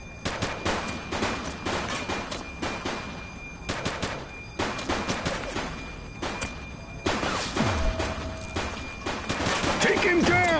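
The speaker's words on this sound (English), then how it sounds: "She's shooting!" Rapid bursts of gunfire in the police game The Precinct, sharp cracks and automatic volleys coming in clusters close by, mixed with shouting voices during a shootout.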